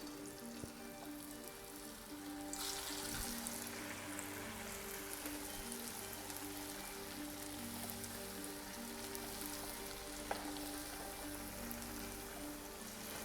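Pumpkin halwa spring rolls go into hot oil for deep frying, setting off a steady hissing crackle that swells after a couple of seconds and holds, close and quiet, with no one talking.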